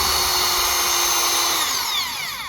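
A power drill bores into a wooden bird-cage perch held by hand, a loud close whining drill tone that holds steady and then drops in pitch as the bit works through the wood near the end.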